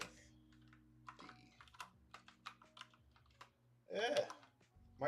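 Fingers type on a Moonlander split keyboard in quick, irregular clusters of soft clicks and taps, close and fairly quiet, with a brief burst of speech-like sound near the end over a low steady hum.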